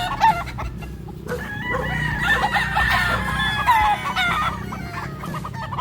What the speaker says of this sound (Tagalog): mga napakagandang mga manok ng mga to